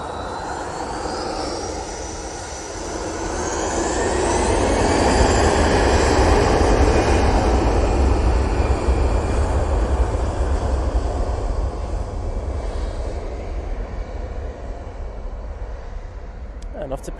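An easyJet airliner takes off at Manchester Airport, its jet roar swelling loud and close with a rising whine, peaking mid-way, then slowly fading into the distance.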